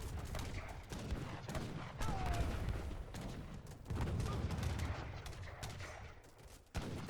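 A dense gunfire barrage in Age of Empires III during a three-way free-for-all battle, with rattling musket volleys. Loud, continuous crackling bursts surge in waves, and no voices are heard.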